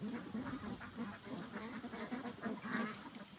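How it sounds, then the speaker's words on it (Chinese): Ducks on a rural farm raising about three hundred birds, including some that wandered up a hillside, quack faintly and repeatedly in a steady murmur with outdoor background noise. "这鸭子还上山了，山上有鸭子。"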